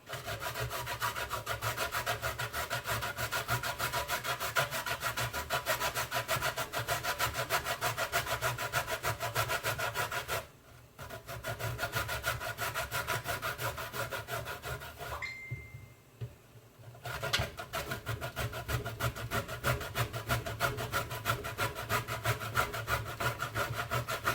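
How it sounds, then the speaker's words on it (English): Cassava is grated by hand in rapid, continuous rasping back-and-forth strokes, loud and close, with two brief pauses before grating resumes, and no one speaking. "I'm going to grate my cassava"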